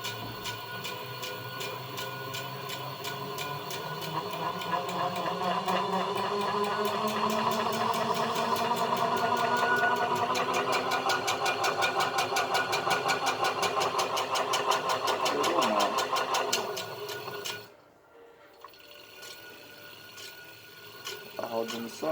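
A modified electric bike driven by a 1500 W washing-machine motor, spinning steadily at roughly 1000 RPM with a whining hum that rises in pitch, holds, then cuts out abruptly near the end before a faint restart.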